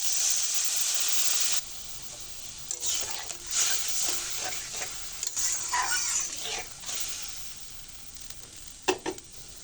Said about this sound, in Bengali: পানিটা ফুটতে উঠতে শুরু করেছে